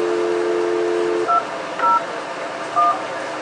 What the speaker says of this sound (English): So at this point, we can dial a number if we want.